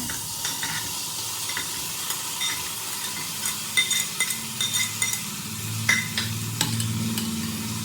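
Chopped onion, tomato and potato fry in coconut oil inside a pressure cooker, giving a steady close sizzle broken by repeated spoon scrapes and light clinks of stirring, with no one talking.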